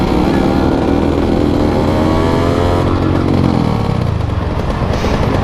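A restored Yamaha Force 1 F1Z motorcycle engine revs loudly up close, its pitch climbing smoothly and then falling back, with a buzzy two-stroke rasp throughout and no voices.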